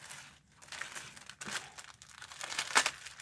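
Tape being peeled off a plastic surface on an art journal page, heard as faint, close crinkling and tearing bursts in an irregular rhythm, with a sharper rip near the end.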